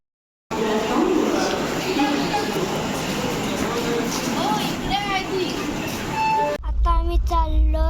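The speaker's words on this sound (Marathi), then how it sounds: "आता आम्ही बसलोय ट्रेन मध्ये." Steady loud rumble of a passenger train ride on a trip to Goa, with people talking over it throughout. Carriage noise and track sounds hold continuously, shifting briefly toward the end.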